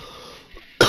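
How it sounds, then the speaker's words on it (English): A single sharp, loud cough bursts out near the end from someone getting over an illness, preceded by quieter breathy room noise and a faint throat sound. "I might cough a little bit throughout this video."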